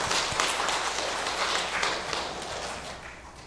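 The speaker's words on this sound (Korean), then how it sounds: "우리 박수로 한번 격려하십시오." A church congregation applauds during a Sunday service, a dense, steady wash of hand claps filling the room from start to finish with no talk over it.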